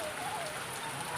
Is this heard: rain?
yes